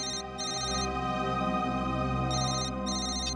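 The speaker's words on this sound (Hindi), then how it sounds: "मोबाइल कंपनी से फोन था।" A mobile phone ringtone plays loud and close, a repeating electronic melody with brief pauses, heard alone without voices.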